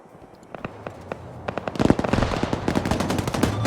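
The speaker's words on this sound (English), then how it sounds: "Here's the airstrike." An airstrike in a military video game sets off a rapid string of sharp explosions and cracks that build from sparse hits into a dense, loud barrage.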